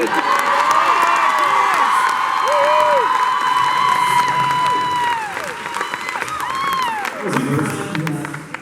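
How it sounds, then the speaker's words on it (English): Live story-time audience in Salem, Oregon applauding and cheering, sustained clapping mixed with whoops and shouts from adults and children, loud and close, tapering off as voices take over near the end. "can we please have a round of applause for Chris's zipper?"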